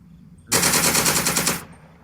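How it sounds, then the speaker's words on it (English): A loud burst of machine gun fire from the World War II wargame Second Front, Kiev scenario, rattles for about a second after a quiet start and then cuts off. "Machine guns."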